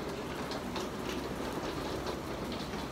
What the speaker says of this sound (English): I guess it does sound like hail in here.